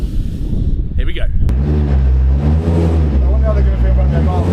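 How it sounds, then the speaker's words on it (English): A 600 hp World Rallycross car pulls away in a driveway, its engine rising into a loud, harsh rev with strong pulsing harmonics up close after a brief burst of noise at the start. "I bet they've never had a rally car drift around their driveway."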